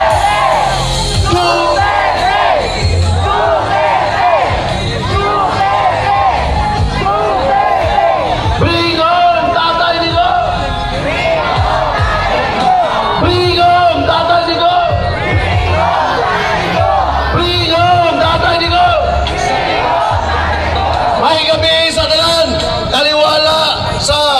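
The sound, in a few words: crowd shouting loudly at rally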